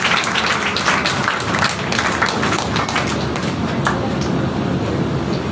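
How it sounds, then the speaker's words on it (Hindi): A church congregation clapping hands loudly during a Resurrection Day service, dense rapid claps forming a steady close wash without a pause, with no clear voices over it. "जोर से ताली बजाएंगे हालेलुया।"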